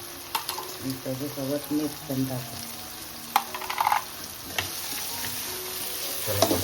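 Ginger and spices sizzle in a hot pan for a dish of monsoon wild greens, a quiet steady frying with clinks and stirring scrapes scattered across it.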